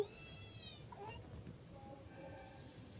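A cat meows twice, a short cry at the start and a longer one near the end, moderately faint over a low background hum.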